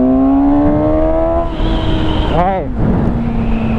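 A 2017 Suzuki GSX-S 750 motorcycle engine drones steadily while riding, its pitch rising and shifting partway through, close and loud under wind noise, with a brief spoken word.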